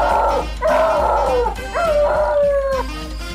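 A dog yelps and howls after being shot, in a series of high, wavering cries that slide downward, loud and close, with no talking.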